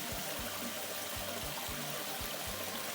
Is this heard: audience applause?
no